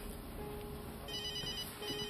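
A mobile phone ringtone plays a repeating electronic melody, steady and fairly quiet, with faint room noise underneath and no talking.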